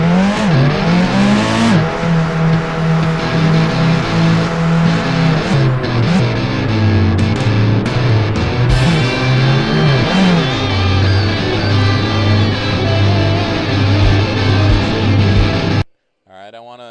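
Car engine in a Unity driving game climbing a ramp: a loud, continuous engine drone that rises and falls in pitch as it revs, steady and close for about sixteen seconds before cutting off.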